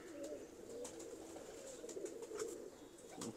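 Black Calcutta pigeons coo softly in repeated low, throaty calls that overlap closely against a faint background.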